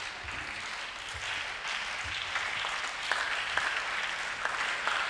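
A crowd at a women's 10m air rifle Olympic qualification shooting final in Jakarta applauds and tries to clap along, a soft, distant wash of clapping with a few sharper claps standing out.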